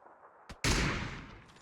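Gunfire in the video game PUBG on the Erangel map, a short faint pop followed by a loud sharp blast that decays over about a second, with no talk over it.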